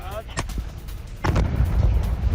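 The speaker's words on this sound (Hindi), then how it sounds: "आईडीएफ के विस्फोटक धमाके से दहला गाजा।" Explosive blasts from IDF strikes in Gaza, captured in news footage: two sharp booms, the second heavier and followed by a rolling rumble that carries on to the end.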